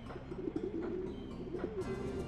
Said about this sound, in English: Damn Dreamcast birds.